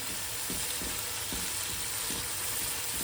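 Tomato puree masala for aloo gobi frying in a pan, a steady, quiet sizzle with soft periodic stirring scrapes.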